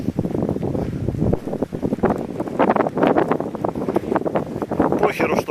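Strong storm wind with wet snow and rain buffets the microphone in gusty, rumbling bursts on a summer day in Murmansk at an abandoned military depot. A voice is also heard talking.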